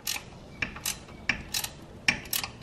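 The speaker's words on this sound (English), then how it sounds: "Just take your wrench." A ratchet wrench works the bolts off a wheel hub assembly on a Crown Victoria, giving sharp metallic clicks in short bursts roughly every half second, close and clear with no talk.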